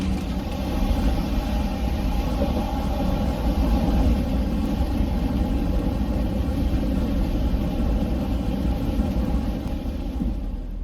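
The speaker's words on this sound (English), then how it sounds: "Just trying to make my way through this traffic now, and traffic is nuts." A car engine idling in heavy traffic during preparations for Hurricane Fiona, a steady low rumble with constant cabin hum holding for about eleven seconds with no talk.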